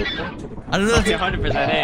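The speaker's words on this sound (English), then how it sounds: "What's happening to the birds outside?" Birds in the video game Lethal Company, honking and squawking like geese or fowl in short, near bursts, partly mixed with a person talking.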